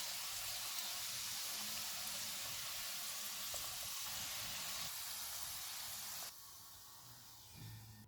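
Chicken croquette balls fry in hot oil with a steady, bright hiss and sizzle that runs evenly, then drops sharply quieter near the end as they come out of the pan.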